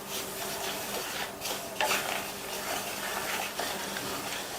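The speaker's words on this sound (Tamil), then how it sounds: "நான் சேர்த്துருக்கிறது வறுக்காத ரவை, அதனால இதை 4ல இருந்து 5 நிமிஷத்துக்கு வறுக்க போறேன்" Unroasted semolina (rava) being dry-roasted and stirred in a pan over low-medium flame, a steady soft rubbing and scraping with occasional louder scrapes of the spoon, close and continuous with no talk.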